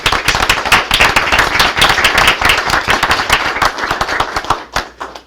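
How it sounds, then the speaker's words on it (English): A small audience at a college board of trustees meeting claps loudly and close by, a crisp flurry of individual hand claps that continues for several seconds and thins out at the end. "Would all of you please stand so that we can give you a round of applause?"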